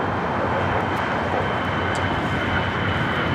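Emirates Airbus A380 airliner at LAX near the end of runway 25, a loud continuous broadband jet engine roar, steady and unbroken, with no voices.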